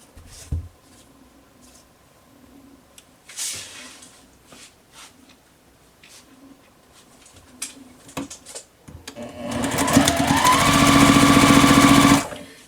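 A sewing machine stitches quilt block pieces for a crown star block together, running in a loud steady burst near the end after quieter handling sounds.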